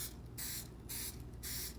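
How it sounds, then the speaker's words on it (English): Butter cooking spray spritzed onto chips in a kitchen, three short, close, evenly spaced hissing sprays with brief pauses between them. "I took some of this butter cooking spray and I just gave them a little spritz."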